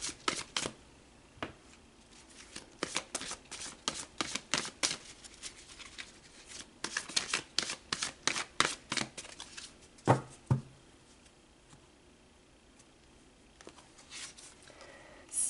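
Tarot cards shuffled by hand in a repeated series of crisp riffling snaps and flutters, close and fairly loud, with a few sharper bursts near the middle and quiet pauses between, no talking.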